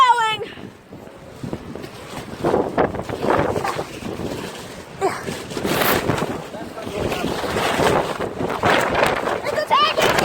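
A strong wind storm roars in gusty, rumbling blasts buffeting the microphone, loud and near, while excited voices call out over it.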